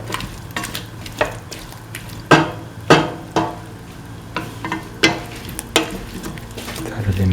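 A spoon stirs hash brown pieces into a beef stew mixture with ash gourd and coconut milk, giving a series of sharp scraping knocks against the pot over a soft sizzle, irregular but fairly steady.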